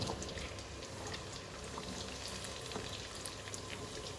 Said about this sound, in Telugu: ఇదిగోండి మరుగుతుంది కదా